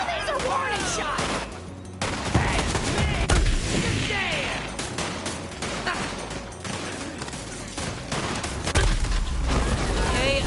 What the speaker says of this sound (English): Some of these are warning shots.